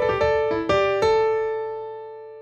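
A short piano phrase of four quick notes, the last one left ringing and slowly fading out.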